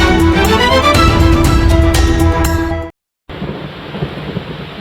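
Heavy monsoon rain over Parbhani district, Maharashtra, roars as a dense, steady wash after a brief silent cut, preceded by loud music.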